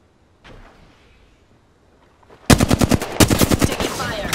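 Automatic gunfire erupts in Apex Legends after a quiet stretch with a faint thud, a loud rapid stream of shots with a brief pause before the volley resumes.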